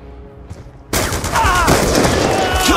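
Call of Duty Black Ops 2 gunfire erupts suddenly after a quiet moment, a loud sustained barrage of overlapping shots and explosions that continues to the end.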